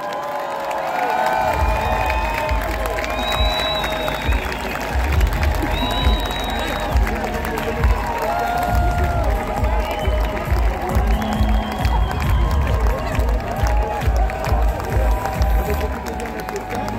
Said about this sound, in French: un tonnerre d'applaudissements pour lui, s'il vous plaît encore!